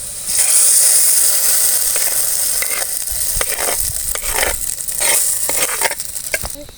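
A hot tempering of onion, garlic, coriander leaves, curry leaves and dried chilies pours into a peepal-leaf sambar with a loud, close crackling sizzle. Scraping and clinking from the pan come through in bursts under the sizzle.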